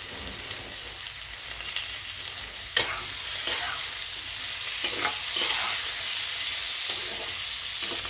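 Green chili and fish curry base fry in a pan with a steady broadband sizzle, broken by a few sharp crackles and stirring scrapes; close and continuous, with no voices.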